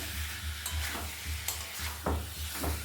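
Eggs cooking in a pan, with a steady low sizzle and periodic stirring scrapes recurring every half second or so, close by, with no talking.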